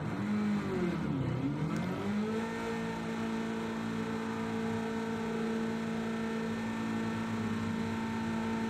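Race cars lapping a practice session in Gran Turismo 7, an engine note dipping and rising as a car slows and accelerates, then settling into a steady sustained drone at speed, loud and close.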